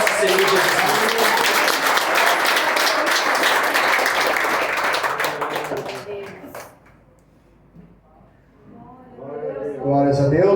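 Joyful clapping from a church congregation, loud and continuous for about six seconds before dying away into near silence, after which a voice begins speaking.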